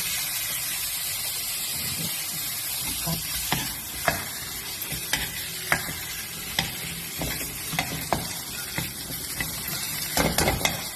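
Fish heads stir-fried in a pan with chili, a continuous loud sizzle broken by repeated sharp scrapes and clacks of the spatula against the pan, close up.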